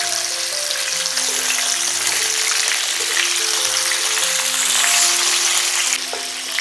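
Chicken pieces fry in oil over a low-to-medium flame, a loud, continuous close-up sizzle and crackle that holds steady throughout, with soft melodic music underneath and no voices.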